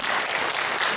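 A church congregation claps during a Sunday service, a brief, dense burst of applause filling the sanctuary.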